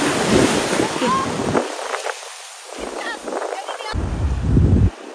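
Ocean waves breaking on a beach, loud surf rushing in under heavy wind buffeting the microphone, with the roar rising and falling in bursts.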